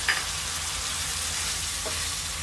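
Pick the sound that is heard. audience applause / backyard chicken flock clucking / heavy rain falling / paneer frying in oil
paneer frying in oil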